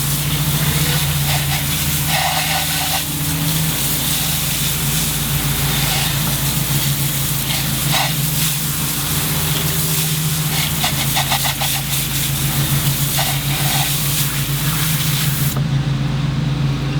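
Water spray rinses a Toyota TRD Pro truck wheel in a steady, loud, close hiss that runs without a break over a low background hum, with no speech.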